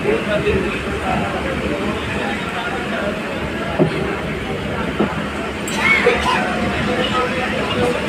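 Continuous rumble and rattle of a moving passenger train toward Bangaon heard from inside, with babble of voices and occasional metallic clanks.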